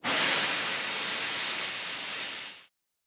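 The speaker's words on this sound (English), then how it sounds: "Henry only blew steam at him." Henry, a steam engine from Thomas & Friends, lets off a loud, steady hiss of steam lasting a couple of seconds before cutting off abruptly into silence.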